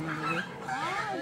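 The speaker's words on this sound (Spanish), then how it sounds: "Los perritos están peleando." Small dogs scuffling and whimpering, with yelps and whines rising and falling over a steady background for a little over a second.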